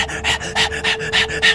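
Dog panting in the horror video game Blair Witch, rapid rhythmic breaths in steady bursts, close and fairly loud with no speech; no whining stands out.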